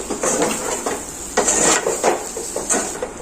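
A spoon scraping and clinking through thick masala in a metal pan while making boti (goat tripe) fry, giving repeated close metallic scrapes and knocks in an uneven rhythm, with no talking.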